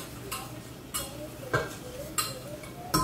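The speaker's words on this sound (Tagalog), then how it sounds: "Ganyan ako, sabon, tapos banlaw. Mainit naman yung tubig." Dishes being washed with soap and hot water in a home kitchen, with regular, fairly close clinks of crockery and cutlery about every half second over a faint background of running water.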